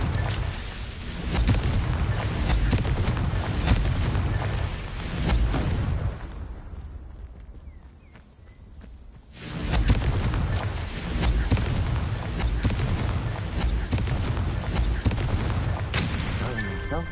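A Confringo fire-blast spell in Hogwarts Legacy lands with booming blasts amid a dense, loud battle din that drops out for a few seconds midway and then returns, with a voice talking over parts of it.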